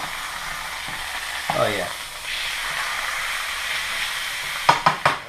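A beef roast rubbed with Tony's seasoning browns in a hot pan for New Orleans roast beef po' boys, giving a steady close sizzle. Someone speaks briefly, then a few sharp clinks sound near the end.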